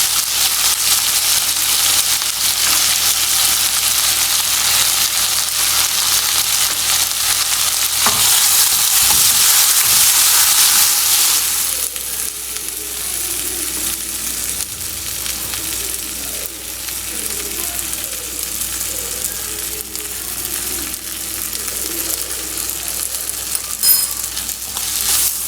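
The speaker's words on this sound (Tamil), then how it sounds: "தக்காளி ஆட் பண்ணிட்டேன், கொஞ்சமாக உப்பு ஆட் பண்ணிக்கலாம்." Tomatoes and salt fry in a hot pan with a steady sizzle and repeated stirring scrapes; the hiss is loudest at first, then settles to a softer, wetter bubbling.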